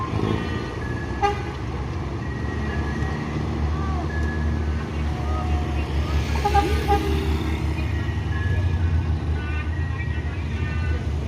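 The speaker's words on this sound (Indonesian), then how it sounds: "Masuk satu unit bus Palala" A Palala bus pulling into the Barai Solo terminal from the Jakarta direction, with a steady engine rumble, busy traffic noise, and a couple of horn toots, while people talk nearby.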